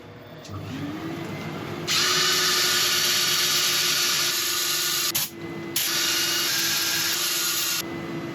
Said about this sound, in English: So right, I'm going to sand carefully.